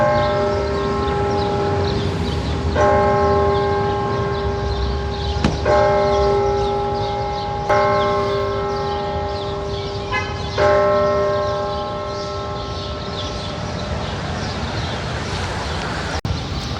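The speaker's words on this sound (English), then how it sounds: "That was the bell in Independence Hall ringing." The Independence Hall tower bell tolls slowly and resonantly in Philadelphia, several strikes with long ringing decay, heard outdoors over steady background traffic hum.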